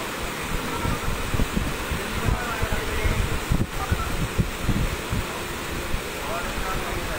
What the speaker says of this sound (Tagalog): Malakas na po ang hangin